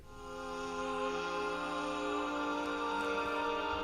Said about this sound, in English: the vocal pad I'm using here is this one, slow motion voices.